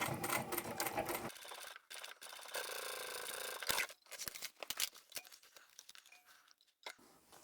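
Sewing machine backstitching a vinyl handbag seam, a soft, quick mechanical whirr that runs in short bursts, stops and restarts, with small clicks and handling noises in between.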